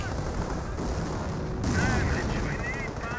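A sticky bomb bursts against a tank in the wartime strategy game Company of Heroes, a heavy booming blast amid continuous rumbling battle noise, with a commentator talking throughout.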